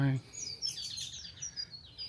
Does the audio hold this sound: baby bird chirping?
yes